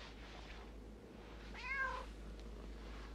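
A single cat meows once, clear and close, with a rising-falling harmonic cry over a steady low hum.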